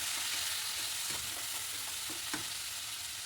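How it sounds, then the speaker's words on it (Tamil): Onions, garlic, curry leaves and tomatoes sauté in a pan as the base of a squid gravy, giving a steady bright hiss with a few soft stirring taps, moderately close and without voices. "வெங்காயம் நல்லா வதங்கினதுக்கப்புறம் தக்காளி சேர்த்து அதையுமே நல்லா வதக்கி விட்டுருங்க."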